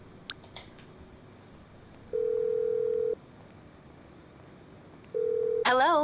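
An in-game phone in Grand Theft Auto V dials out with quick beeps, then plays two steady ringback tones separated by a pause, faint and clean against a quiet background.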